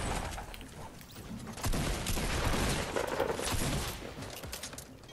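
Shotgun fire in a Fortnite match, several blasts and crackling bursts in the middle of a busy, noisy firefight, with no talk during the gunfire.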